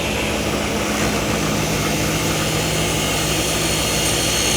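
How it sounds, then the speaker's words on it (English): A table saw is switched on and its blade raised, giving a loud, steady motor whine with a broadband roar that holds constant from start to finish. "I'm just going to turn the saw on. And I'm going to crank it up."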